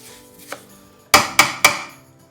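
A pan clatters onto a kitchen hob of chutney ingredients: a faint knock, then three sharp metallic clanks in quick succession, close and loud with short ringing decays.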